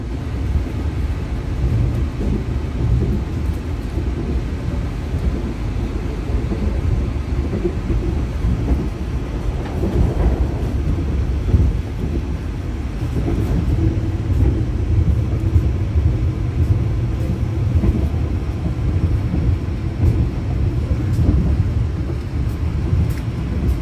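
Train on a nonstop Semarang to Jakarta trial run at full speed of 120 km/h, a steady loud low rumble and roar of wheels on rails that continues unbroken throughout, with no talk.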